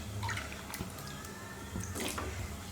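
Water splashes and trickles into a frying pan set on a stove, a brief uneven pour with a couple of louder gushes, close by and alone before yams are boiled.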